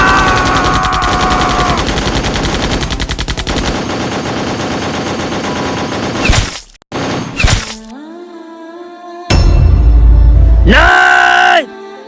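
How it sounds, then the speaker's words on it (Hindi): Staged machine gun fire in a comedy army skit rattles in rapid, loud bursts for several seconds, followed by scattered sharp effects and a brief loud blast. "भाई जी मुझे गोलियों की आवाज से बहुत डर लग"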